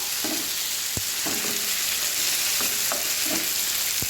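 Small tomato slices sizzle steadily in hot oil in a pan while cooking chilli chicken, a close, continuous frying hiss punctuated by a few light clinks and scrapes of a spoon stirring; no talk.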